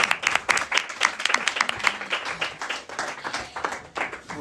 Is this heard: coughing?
no